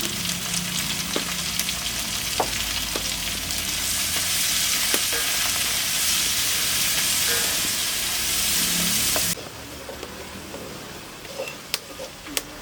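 Turmeric powder fries in hot oil in a pan for a Kerala bitter gourd theeyal, giving a loud, steady sizzle with occasional stirring scrapes that drops away sharply near the end.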